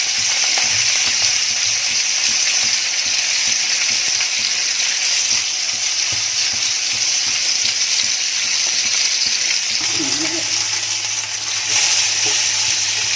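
Chilies and onion frying in a pan with mustard seeds for a bombil fish thali, a steady close sizzle running throughout and briefly joined by a splash of added liquid near the end.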